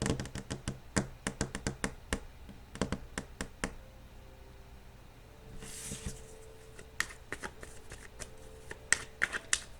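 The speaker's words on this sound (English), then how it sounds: "I'm going to pull other cards here" Tarot cards are riffled and flicked in several quick bursts of crisp snaps, then drawn and laid down, close by with no talking.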